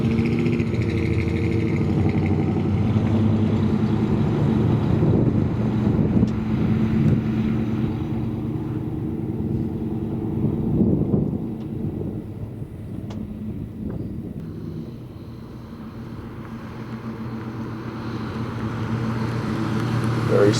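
A 1976 Chevrolet Silverado C20 crew cab truck with a 454 V8 drives along with a steady, low engine rumble and road noise heard from inside the cab, easing slightly in the middle.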